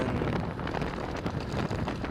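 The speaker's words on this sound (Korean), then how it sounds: "지금 바람 소리가 굉장히 거칠죠." Heavy, rough wind noise buffets the microphone while a bicycle rides fast at around 40 km/h, a loud continuous roar with gusty fluctuations and no speech.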